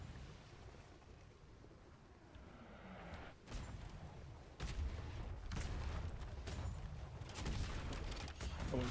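Several sharp cannon blasts in the game Atlas go off in irregular succession during a naval fight around a schooner, over rushing water and wind, growing louder and denser toward the end.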